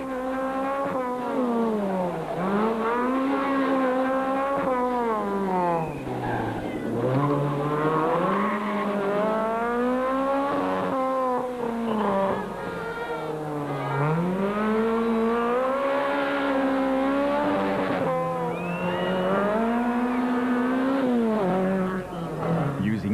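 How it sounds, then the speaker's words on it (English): A Toyota Runx rally car races through a gravel rally stage, engine rising and falling through repeated gear changes and revs, loud and close throughout. "Chris de Wit and Patrick Yende hustled their team total car through the stage, neat, clean and really quick."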